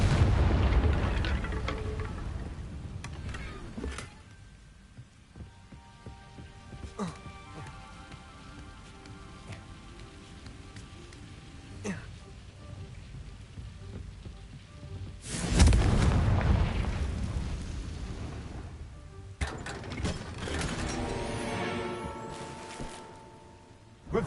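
Booming blasts from a Confringo fire spell in Hogwarts Legacy, with one heavy explosion at the start and another loud burst later, separated by a quieter stretch with scattered impacts.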